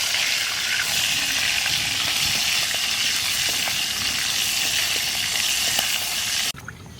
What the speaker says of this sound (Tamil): ஒன்று வந்து எண்ணெயில் போட்டு பொரிக்கிறது